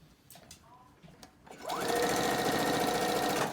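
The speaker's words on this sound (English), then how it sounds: "then I'm going to sew my corner." A sewing machine runs steadily and loudly for about two seconds as it stitches across a fabric corner, after a few soft handling taps and rustles.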